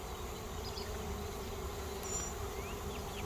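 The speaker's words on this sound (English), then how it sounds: "how they're on the front porch fanning. They're cooling the hives." Honeybees fanning on the front of their hive in a bee yard to cool it, a dense, continuous close-up buzz and hum that stays even throughout, with no talking.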